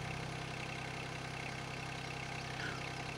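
A TYM T25 compact tractor idles steadily with a post hole digger attached, a constant low mechanical drone with even engine pulses, close and unbroken by speech.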